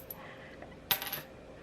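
Small dice with tiny inner dice tumble briefly onto a surface, a quick clatter of hard plastic with a couple of rattling bounces, fairly close and alone in a quiet room.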